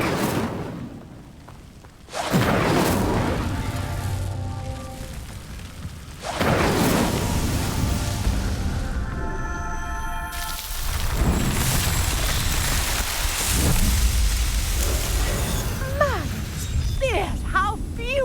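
Incendio fire spell flames roaring over a burning pyre in the video game Hogwarts Legacy, a loud sustained whoosh and rumble in heavy bursts with game music beneath.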